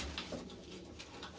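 Pigeons coo softly in a loft where males have just been separated from a new batch of birds, a brief low murmur with faint rustling.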